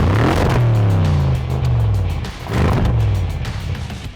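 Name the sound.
Audi RS6 V8 engine revving with modified exhaust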